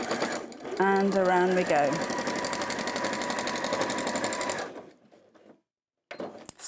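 A sewing machine top stitches with a lengthened stitch in a steady, loud, continuous whir for several seconds while someone talks over it, then it stops and goes quiet.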